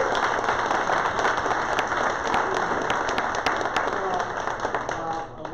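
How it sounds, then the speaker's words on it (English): Applause from an audience at a weekly Rotary meeting, dense and steady for several seconds before tapering slightly at the end. "So, a round of applause for Jeff."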